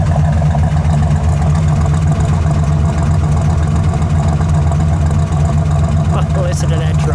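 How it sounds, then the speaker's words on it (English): A 1967 Pontiac GTO convertible's V8 idles steadily and loudly up close, a deep low rumble that stays constant throughout, with people talking over it. "Let me listen to that idle. We hear that low."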